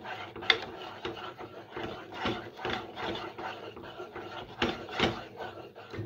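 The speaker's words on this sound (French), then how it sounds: "Bien mélanger." Béchamel mixture being stirred in a pan, with soft rubbing and scraping strokes in an irregular rhythm, close and quiet, and no voices.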